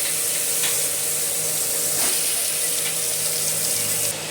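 Ridge gourd dropped into hot oil tempered with nigella seeds, giving a steady close sizzle and hiss that holds throughout with a few brief crackling bursts on top.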